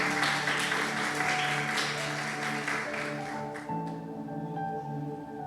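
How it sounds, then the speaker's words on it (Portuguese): Church congregation applauding in praise during a service, a loud wash of many hands clapping at the start that thins and fades out, while sustained organ or keyboard chords carry on beneath and after it. "Dá uma salva de palmas ao Senhor"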